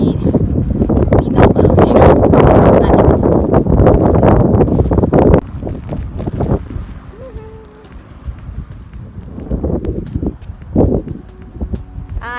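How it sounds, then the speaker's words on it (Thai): Strong wind buffets the microphone outdoors on a cold, sunny day near open water, a loud rumbling roar for the first few seconds that eases into lighter gusts and faint rustling. "แต่จะหนาวตรงที่ว่าเพราะมีลมนะคะ"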